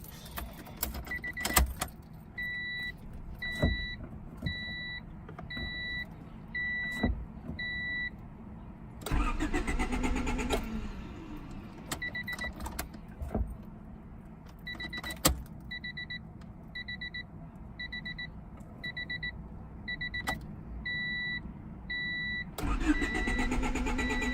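A 1995 Honda Civic Si hatchback, under repair for a vehicle speed sensor, cranks and starts twice, each start a loud burst settling into idle, with repeated electronic warning beeps chiming in between, close by.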